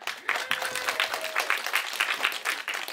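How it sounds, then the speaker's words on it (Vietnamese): A studio audience applauds as the groom, Eric, is called up at an entertainment event; a steady burst of dense clapping carries throughout, with a few faint sustained musical tones underneath. "một tràng vỗ tay cho Eric ạ."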